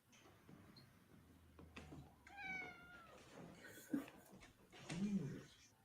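A cat meows in a few short, plaintive cries, faint and scattered, during animal chiropractic treatment, with soft handling noises and a quiet voice in the background.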